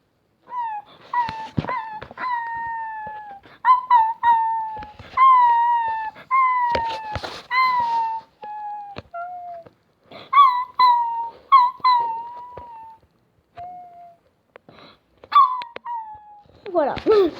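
A person imitates a dog with a long series of howling, whining vocal wails, each rising and falling, repeated with short pauses in a quiet room.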